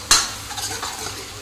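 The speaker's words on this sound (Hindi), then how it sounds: "तो अदरक लहसुन हरी मिर्च को भूल लेना है, कच्चापन ना रहे इसका, इसको पका देना है हल्का से।" Ginger, garlic and green chili frying in a pan for restaurant-style chilli paneer: one sharp ladle scrape opens, then a steady close sizzle with softer stirring scrapes.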